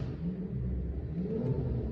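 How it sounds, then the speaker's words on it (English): An engine on a VW Transporter van revs nearby with a steady low rumble and whir, holding at a fairly even level throughout without clear changes in pitch. "who is revving this engine?"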